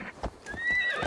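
A horse in Assassin's Creed Valhalla gives a clear whinny over quick clip-clop hoofbeats, close and fairly loud, with no voices.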